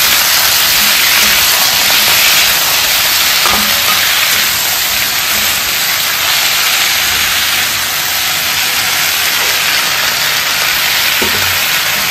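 Vegetables lightly frying in a pan with chopped Malabar spinach added, a loud, continuous hiss and sizzle throughout with a few faint clinks, no voices.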